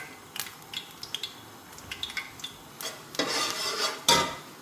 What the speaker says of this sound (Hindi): ये देखें इसमें ये 2 टुकड़े दालचीनी के और 2 बड़ी इलायची है, इसमें डालें आप